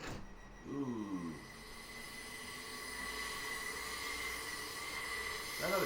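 A train on the Portsmouth Direct Line rolls past near Southsea, a sustained low rumble with brief squealing wheel tones at the start and end as it passes.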